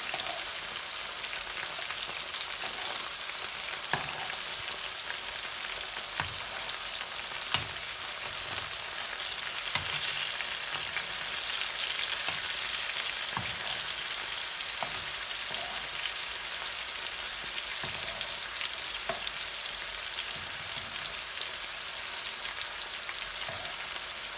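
Steady, moderate sizzling of chicken pieces frying in a pan for butter chicken (chicken makhani), a continuous crackling hiss with scattered pops and no talking.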